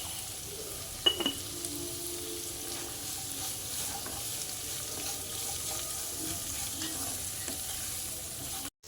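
Onions for a pork fry sautéing in a pan give a steady, close hiss of sizzling throughout, with one brief clink of a utensil near the start and no talking.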